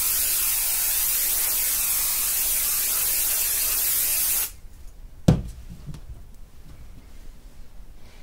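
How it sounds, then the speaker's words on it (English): An aerosol can sprays adhesive onto quilt batting for a minky quilt, a steady close hiss lasting about four and a half seconds before cutting off, followed by one sharp click and then quiet room tone. "So now let's see, I'm going to spray this side."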